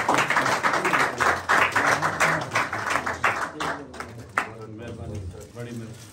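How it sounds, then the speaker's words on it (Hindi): Loud, sustained applause from an audience at a book launch ceremony for a Saraiki poetry collection, a dense burst of clapping that thins out as voices take over. "एक ताली चा मारो यार जोरदार"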